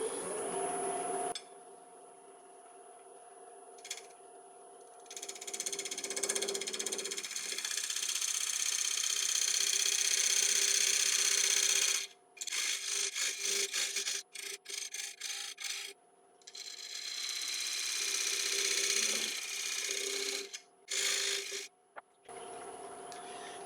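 A wood lathe spins a split oak platter while a gouge cuts out its recess, with a steady motor hum under long stretches of rough scraping and bursts of rapid chattering cuts, stopping briefly between passes.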